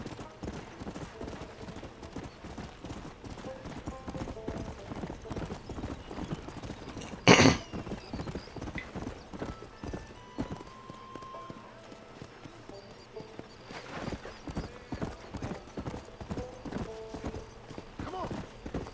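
A horse gallops with steady, rapid hoofbeats in the video game Red Dead Redemption, occasionally neighing, with a loud sharp crack midway and a voice speaking over the ride.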